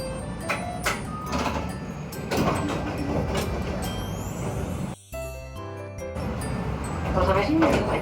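A Nagasaki tram's sliding door opens at a stop, a brief mechanical whoosh and clunk near the middle, with the chime and steady hum of the streetcar around it and an announcer's voice over the scene.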